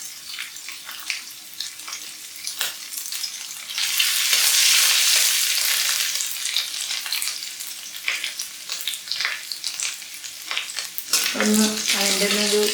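Garlic and ginger fry in a little hot oil in a pan for vegetable cutlets, giving a steady, close sizzle that swells midway, with stirring and a brief voice near the end.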